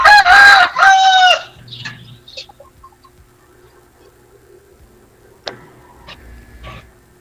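A rooster crows loudly and close by, followed by scattered soft clucks and chicken sounds from a farmyard flock in a quiet setting.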